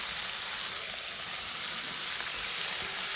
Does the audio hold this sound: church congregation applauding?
no